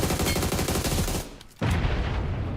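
Rapid automatic gunfire spraying in PUBG Mobile, heard during a tournament watch party, comes as a loud dense burst that stops briefly and then resumes at the same intensity, with no speech over it.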